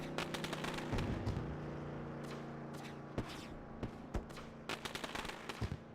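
Fireworks bursting over Bristol Motor Speedway after a truck race, a steady roar of crowd or engine noise underneath with repeated sharp booms and crackles scattered through, several loud reports near the end.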